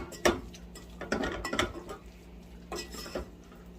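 A spoon clinks and scrapes in a pot while spaghetti sauce with cinnamon and brown sugar is mixed, several sharp irregular knocks over a faint low hum.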